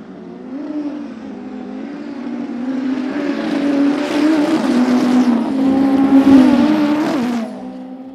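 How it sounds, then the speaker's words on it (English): Race car launching from the start line at a qualifying drag race, engine note rising and surging in pitch over several seconds as it accelerates away, loud and fairly near. "The yellow car take off."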